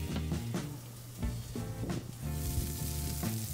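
Burgers and potato buns sizzling on a Weber Q griddle and grill, a close, crackling fry with bursts of spitting and occasional scraping, no voices.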